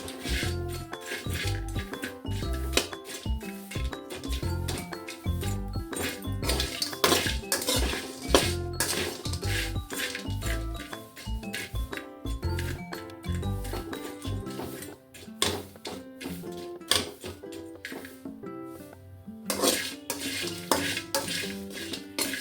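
Ingredients stirred continuously while dry-roasting over a low flame in a pan for a village-style curry: busy, close scraping and clinking of a spoon against the metal pan, with a faint sizzle underneath and no talk.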